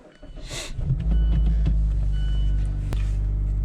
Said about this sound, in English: once again we can start the vehicle